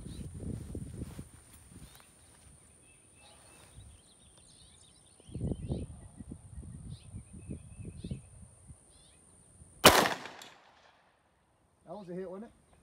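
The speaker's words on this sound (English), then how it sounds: "we are going to shoot this at 100 yards at that 2/3 steel down there with the head swinger" A SIG P365 9mm pistol fires one sharp, loud shot at a 2/3-size steel target 100 yards away. People talk intermittently before the shot, and a short voice comes after it.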